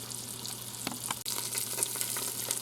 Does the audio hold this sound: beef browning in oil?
yes